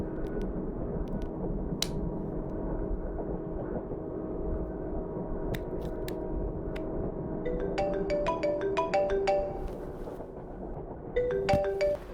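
A phone ringtone plays from an incoming call in a Tamil comedy film scene, a melodic electronic tune of repeated short tones that starts after a quiet stretch and grows more prominent toward the end.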